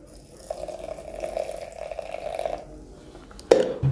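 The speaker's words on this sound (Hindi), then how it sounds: "उसके बाद इसमें हॉट वाटर डालेंगे।" Hot water poured into a cup while brewing rose tea with sugar, a thin steady trickle lasting a couple of seconds, followed by a few faint clinks close by.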